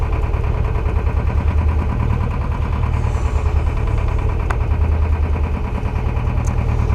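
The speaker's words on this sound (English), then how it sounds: "We've got the engine on, we've got no wind, so we've got the engine on, we've got the autopilot on" A sailing boat's engine runs steadily with no wind while under autopilot at sea, a continuous low droning hum with faint mechanical vibration, loud and close throughout without talk.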